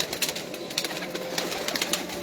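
Lakha pigeons, descended from Misse pigeons, give soft low coos under a bright, noisy outdoor background with rapid ticking sounds.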